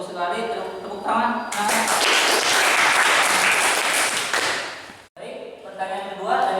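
Classroom applause from students in a vocational lesson on carburetors bursts in after a teacher's voice, loud dense clapping for several seconds before cutting off, with talking again at the end.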